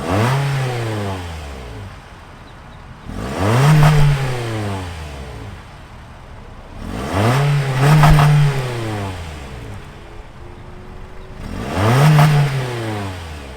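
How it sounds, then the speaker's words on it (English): Revving of the 2-liter 4-cylinder engine of a 2022 Toyota C-HR XLE, idling between four strong blips that rise and fall at steady intervals, heard alone and up close. "let's start this 2-liter 4-cylinder up and hear how she sounds."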